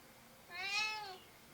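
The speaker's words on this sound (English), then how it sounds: "my cat's probably gonna be yelling to be let out most of the video" A single drawn-out meow from a house cat wanting to be let out the front door, rising and falling over about half a second, moderately close in a quiet room.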